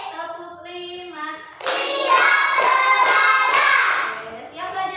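Loud rhythmic clapping by a class of pupils, a sustained run of quick claps in a steady beat over a continuous tonal background, fading as the background resumes.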